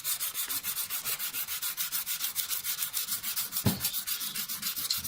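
A steel cabinet scraper rubbed flat against a sharpening surface to take off the burr, a steady rhythmic scraping stroke repeated back and forth about twice a second, close and even with no talking.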